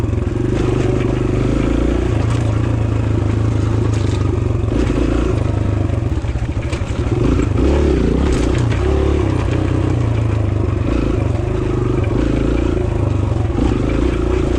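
A 2022 Kawasaki KLX140RF dirt bike rides a trail with a loud, close engine that rises and falls as the throttle opens and eases, along with clatter and scraping from the terrain; there is no talking.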